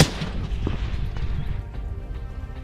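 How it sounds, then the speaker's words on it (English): A single rifle gunshot sound effect cracks loudly at the start, then rolls off into a long, rumbling echo that fades slowly. "The sound of a rifle tore through the air."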